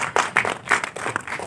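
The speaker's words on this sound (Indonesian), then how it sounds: "Terima kasih, kita tepuk tangan jawabannya." An audience applauds at a live event for the animated film Zanna 'Whisper of Volcano Isle' from MNC Pictures. A short burst of loud, close claps comes in uneven spurts, with no voices over it.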